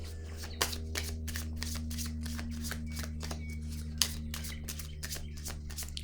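Tarot cards being shuffled, a quick run of crisp riffling flicks and slaps in rapid rhythm, close and fairly quiet over a low steady hum.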